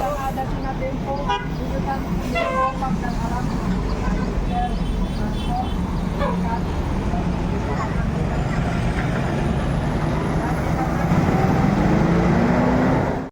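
An intercity bus pulls out of the Pondok Pinang terminal bound for Ranah Minang, its engine and horn toots mixing with surrounding traffic while an announcer speaks over a loudspeaker throughout.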